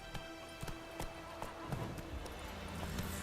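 The horse Roach gallops in The Witcher 3 video game, hooves clip-clopping in a quick, even rhythm. The footfalls sound fairly close but faint against a dense game background, and nobody speaks.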